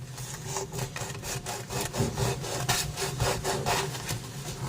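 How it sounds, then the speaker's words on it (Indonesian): Rhythmic back-and-forth sanding strokes scrape across the cracked, leaking inside surface of a plastic bathtub, close and continuous with no talking. "Amplas juga permukaan bagian dalam bak yang bocor atau retak."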